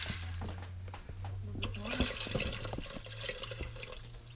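Water runs into a 6-quart pressure cooker over a bag of dry beans, a steady close splashing and trickling stream with a low hum underneath, fairly quiet throughout.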